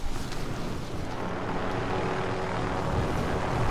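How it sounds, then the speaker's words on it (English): A helicopter flies in the video game Call of Duty: Modern Warfare, its loud, broad rotor and engine roar rumbling steadily without talk. "this motherfucker's going for the chopper"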